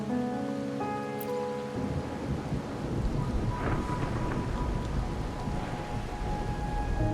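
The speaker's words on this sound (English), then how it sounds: "My granddaughter told me Raguna's rain is a bad omen" Heavy rain pours steadily in a video game storm while low thunder rumbles underneath, after a brief musical tone at the start.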